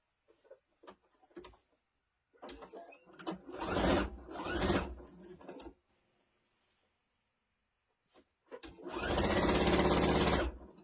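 Sewing machine running in two bursts of stitching as a scant quarter-inch quilt seam is sewn, a long steady run midway and another at the end, with short quiet gaps and light handling noises between.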